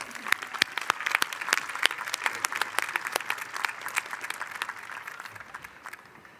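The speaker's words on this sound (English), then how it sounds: "Let's give Dan and Jackie one more round of applause." Audience applause at an evening celebration honoring a couple, a steady patter of many hands clapping near the microphone, fading slightly toward the end with no talk.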